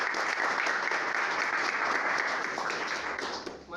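An audience claps for a guest, a brisk, full burst of applause that carries on steadily for a few seconds before tapering off at the end.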